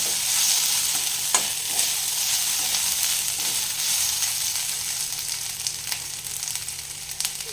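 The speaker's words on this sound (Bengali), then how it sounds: "এটা ভেজে নেব একটু" Lentils fry in a pan with a steady, dense sizzle up close, joined by occasional stirring scrapes and light clinks, with no speech.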